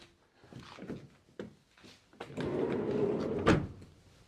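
A few soft knocks and rattles, then the sliding side door of a 2019 VW T6 long-wheelbase van rolls along its track and shuts with a solid thud, close by.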